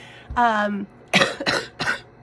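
A short throat sound, then three rough coughs in quick succession, close and loud.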